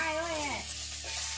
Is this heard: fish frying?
yes